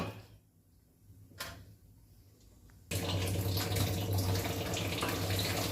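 Water poured over rice in a cooking pot, a steady splashing pour that starts suddenly partway through after a quiet stretch with a brief clink, then continues loudly to the end.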